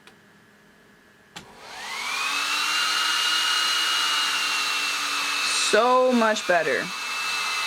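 High-speed cooling fans on a water-cooled Traxxas Slash 4x4 RC truck spin up after a click into a loud, steady whine, then stutter and wind down near the end as a voice briefly speaks.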